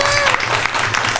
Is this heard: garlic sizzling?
no